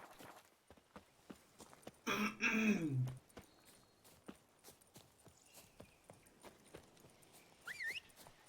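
Horse hooves clip-clop in a steady trotting rhythm in The Witcher 3 video game, close and crisp, with a brief horse snort or whinny midway and a short chirp near the end.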